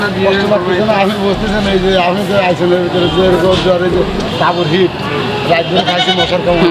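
Several goats bleat loudly and repeatedly while fighting, close by, amid a bustling crowd at the Jora Gate cattle market in Khulna with people talking over them.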